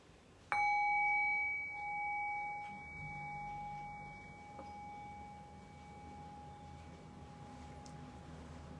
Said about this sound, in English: I'll ring the bell and I'll guide us